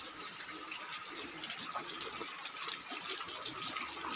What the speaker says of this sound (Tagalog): yung tubig daan sa tubo